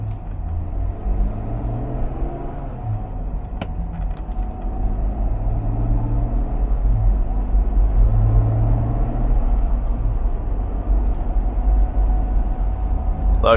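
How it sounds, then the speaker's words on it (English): An Ineos Grenadier 4x4 cruises on a freeway in traffic, heard from inside the cabin as a steady low engine and road rumble with faint wind noise, no talking. "we're just gonna hop on the 405 for a little bit of freeway driving"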